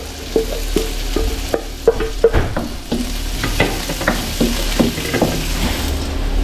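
Onion and garlic sautéing together in a hot pan, a steady sizzle broken by repeated clattering stirs of a utensil against the pan, close-up with no talk.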